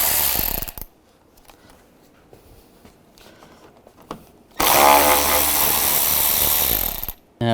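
Ratchet with a T30 bit backing out screws on a 2005-10 Volkswagen Jetta bumper, loud rapid ratcheting bursts at the start and a longer sustained run near the end, close by.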